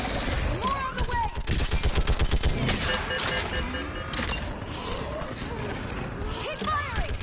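Rapid bursts of automatic gunfire crackle continuously through a Mass Effect 3 firefight, dense and loud, with shouted voices over the shooting.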